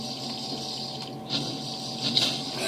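Water splash potions thrown in a video game fight against a blaze give a steady rushing, splashing wash of water, close and fairly loud, with a few brief bursts and no voices.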